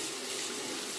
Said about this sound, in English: this is rinsing quickly, this razor and this soap